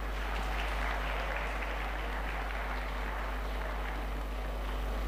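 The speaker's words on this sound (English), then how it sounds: "so a big round of applause for that." An audience at a Chetana festival gathering breaks into applause, a dense, continuous patter of clapping heard at moderate distance over a low steady hum, with no talking.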